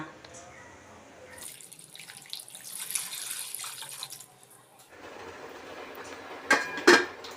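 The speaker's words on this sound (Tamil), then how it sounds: "அது தண்ணி ஊற்றி வேக வைக்கணுமா?" Water runs and splashes into a pot for boiling sweet potatoes in a home kitchen, starting after a quiet moment with a steady pour, a short lull, then clinks and splashes near the end.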